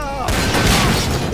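Dense, loud in-game explosion blast with rumbling, crackling debris in Trouble in Terrorist Town, filling the whole moment and overlapping faint voices.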